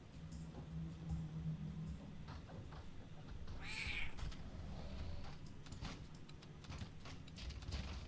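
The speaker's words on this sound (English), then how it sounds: "What are you doing, cat?" A house cat meows once, a short clear call standing out over a low steady indoor hum, with no talking.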